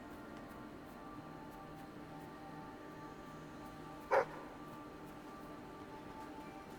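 A dog in the video game Fable III gives one short, sharp bark partway through, standing out clearly against a quiet, steady bed of game ambience.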